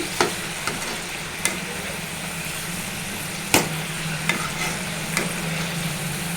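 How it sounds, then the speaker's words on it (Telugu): Amla gooseberries frying in a pan for pickle, a steady close sizzle running throughout with a few sharp clicks of a spoon against the pan. "చూడండి కలర్ వచ్చే వరకు ఫ్రై చేసుకోవాలి"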